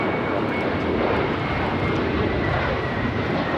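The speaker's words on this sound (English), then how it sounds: "This is American Airlines 1657 taking off to Dallas-Fort Worth on the A321" An American Airlines Airbus A321 in U.S. Airways retro livery takes off from Los Angeles LAX, its jet engines a loud, broad, steady roar that fills the whole stretch without a break.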